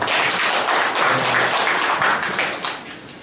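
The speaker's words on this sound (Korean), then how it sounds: "여러분 큰 박수 부탁드리겠습니다" Audience applause at a literary award ceremony and association founding event in Korea, a steady dense wash of many hands clapping close by that holds for about three seconds, then tapers slightly toward the end.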